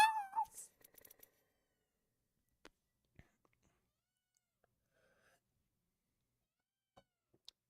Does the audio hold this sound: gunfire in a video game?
no